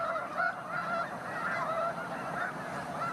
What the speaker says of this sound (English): Tundra swans, like ducks and geese, are in the biological family called Anatidae.